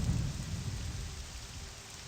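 Heavy rain pours during a Morrowind thunderstorm, with a deep rolling rumble of thunder that swells at the start and then eases into a steady downpour.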